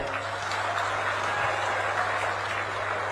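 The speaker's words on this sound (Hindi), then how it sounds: "एक बार जोरदार तालियां बजा दीजिए" Dense, steady crowd applause fills an outdoor International Yoga Day gathering at Bharadisain, Gairsain, many hands clapping together in a continuous even roar with a low hum underneath.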